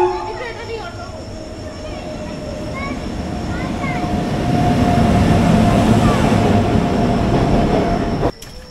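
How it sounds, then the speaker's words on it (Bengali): The Gangasagar Express stands at a station platform with a loud, steady rumble of the train and its cars, a faint squeal of wheels, and a crowd murmuring around it before the sound cuts off abruptly. "চলে এসছে ট্রেন গঙ্গাসাগর এক্সপ্রেস।"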